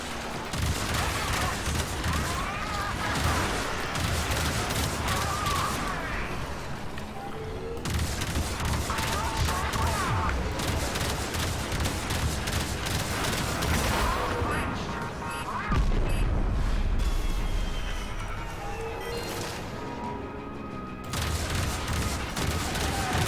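Ship guns fire continuously during a space battle in Warframe, a dense loud barrage of rapid shots and crashing impacts that carries through the whole stretch, with voices talking over it at times.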